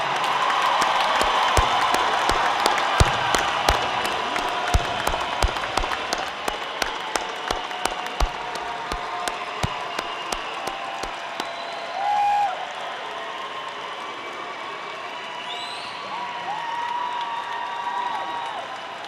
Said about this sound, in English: One more rousing applause for the class of